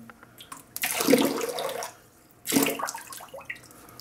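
A Simpson Chubby 3 shaving brush is lifted out of water without squeezing, shedding two close bursts of pouring, splashing runoff separated by a short near-silent gap.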